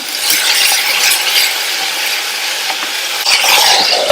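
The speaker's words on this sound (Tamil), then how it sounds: "இப்ப நம்ம சேர்த்திருக்கிற தக்காளி எல்லாம் நல்லா வதங்கி வரட்டும்." Tomatoes sautéing in a pan for chutney, a close, bright sizzle with scraping and stirring clicks running throughout, a little louder near the end.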